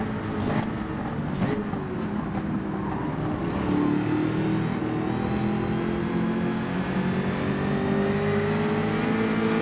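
A Mazda race car engine in Gran Turismo 7 drones loudly and steadily throughout, its pitch rising slowly as the car builds speed, with other cars faintly audible around it.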